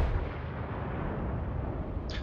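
Heavy naval gunfire from the German battleship Tirpitz in the naval combat game World of Warships, a dense, sustained low roar and rumble of firing that fills the whole stretch, loud and close, with no speech.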